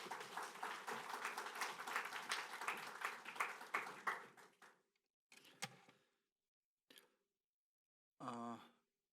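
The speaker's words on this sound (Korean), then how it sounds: "우리 박수로 맞이하도록 하겠습니다" Church congregation at a Sunday service clapping to welcome the pastor, a burst of applause for about four seconds that dies away, followed by a few scattered faint sounds and a brief voice near the end.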